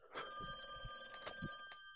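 An old telephone rings in the VR game A Chair in a Room: Greenwater, a single bright, sustained bell ring, clear and close in a quiet room.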